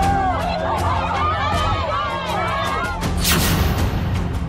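A crowd protesting in the streets of Lucknow after a minor's death, a loud, dense roar of many overlapping shouting voices, constant and close, with a sharper burst of yelling near the end.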